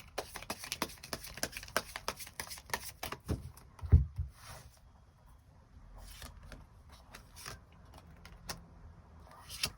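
Tarot cards are shuffled and drawn with a flurry of crisp, close riffling clicks, then a few scattered softer card taps. No one speaks.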